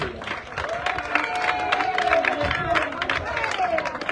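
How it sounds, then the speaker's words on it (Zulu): A crowd at a workers' gathering claps in a steady patter, with a voice speaking loudly over the applause and general crowd noise throughout. "Cela sibashayele kulo ihlombe."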